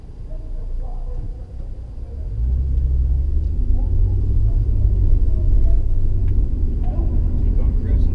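A car cruising slowly through the streets of Umm Ghuwailina gives a deep, steady rumble heard from inside the vehicle, with the engine swelling a little louder partway through.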